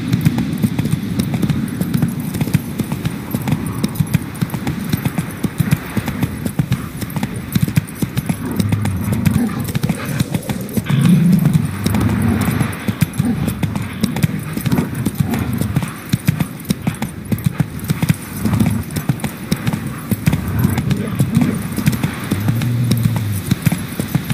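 Roach the horse from The Witcher 3 walking along, its hooves clip-clopping in a steady, repeating four-beat rhythm close by, continuing for the whole stretch with faint jingling of tack.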